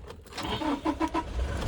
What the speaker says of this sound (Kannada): ಎಂಜಿನ್ ಸೌಂಡ್ ಕೇಳಿಸ್ತಾ ಇದೆಯಾ?